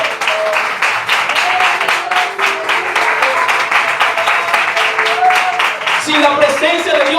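Church congregation applauding during a worship service, a dense, steady wash of clapping that fills the whole stretch at close range, with a few tonal voice or music lines running faintly underneath.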